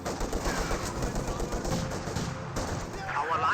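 Small-arms and machine-gun fire in the real-time strategy game Company of Heroes 2 rattles steadily at a moderate distance, with a dense layer of battle noise under it.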